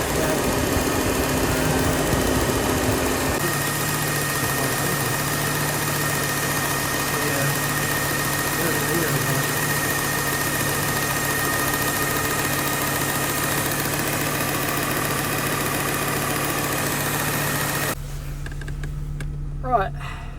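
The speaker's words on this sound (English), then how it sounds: "the fan's been cutting in and out, as you may have heard" A hot Volvo 850 engine idles steadily at close range while its radiator fan cuts in and out, the tone changing audibly in the first few seconds and again near the end.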